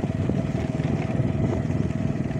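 A small motorcycle ridden along a rough road on Burias Island carries a steady, close engine drone with a busy, chugging low rumble throughout, and no talk over it.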